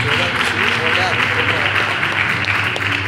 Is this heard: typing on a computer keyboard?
no